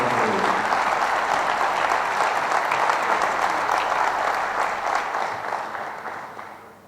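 An assembly audience at a water meeting gives sustained applause for Edgardo Bortolossi, a dense, even wash of clapping that gradually fades toward the end.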